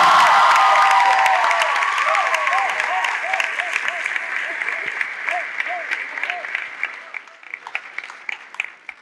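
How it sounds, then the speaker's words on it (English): A large crowd applauds at a political speech by a senator at a university, dense clapping and cheering that starts loud and gradually thins out, with a few shouts scattered through it. "Give them a huge round of applause."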